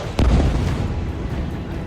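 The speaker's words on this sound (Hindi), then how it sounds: "मिसाइल धमाके पहले की तरह हो रहे थे।" A heavy missile explosion bursts out near the start and fades into a sustained low rumble, with a voice faintly present underneath.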